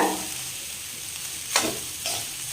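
Cooked lemon rice stirred in a pan over low heat, a steady sizzle with a couple of sharper scraping strokes from a spoon, close by and with no voices.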